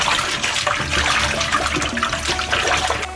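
Prepared Chinese stem mustard (er cai) rinsed clean under running water, a steady close splashing and gushing from a tap with no pauses, no talking.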